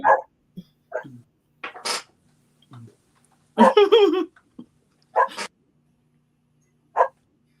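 A dog barks in short, sharp bursts scattered across several seconds, close and fairly loud, with a longer yelping flurry in the middle and a few pauses of silence between barks.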